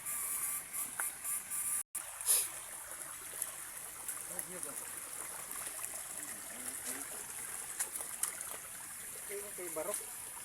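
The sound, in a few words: water flowing in a nearly dry river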